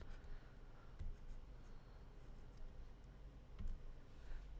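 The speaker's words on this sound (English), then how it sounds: "I'm going to erase them just for now." Pencil marks being erased from a paper worksheet, producing a faint, soft rubbing scratch with a few light taps, quiet and alone without talk.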